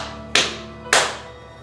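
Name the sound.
banging on the floor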